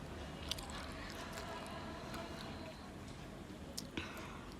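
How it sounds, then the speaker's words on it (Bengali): Fish and pumpkin sauté in a pan, giving a soft, steady sizzle and faint, wet shuffling as they are stirred, quiet and close throughout with a few small taps. "এই তো এখন আমি কুমড়োটা দিয়ে মাছটাকে কষিয়ে নেব।"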